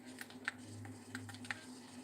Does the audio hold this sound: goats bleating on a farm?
no